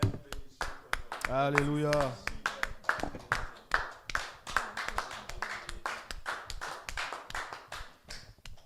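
A church congregation at a French-language worship service claps in a steady, fast rhythm, many hands together, while a voice sings and calls out over the clapping.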